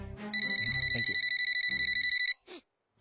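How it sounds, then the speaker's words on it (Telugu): A phone rings with a loud, rapid pulsing electronic trill that runs steadily for about two seconds and then cuts off, followed by a brief rustle and silence. "నీ ఫోన్ రింగ్ అవుతుంది"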